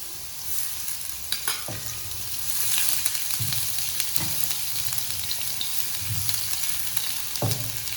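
Mixed vegetables and carrot frying in ghee for chicken bread filling, with a bright steady sizzle broken by several soft stirring thumps spaced a second or so apart, close by.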